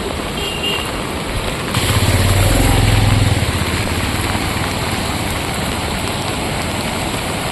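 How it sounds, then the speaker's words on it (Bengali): Heavy rain falls in a steady, loud broadband hiss near a dam, with a low engine-like rumble swelling briefly in the first seconds before the downpour continues alone. "প্রচণ্ড বৃষ্টি হচ্ছে প্রচণ্ড"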